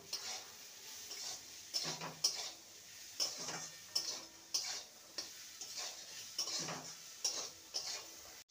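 A spoon stirs cumin powder and spices in a pan for a healthy vegetarian dalia dish. It makes a steady run of close metallic scrapes and taps, roughly one every half second, over a faint sizzle, with no voices.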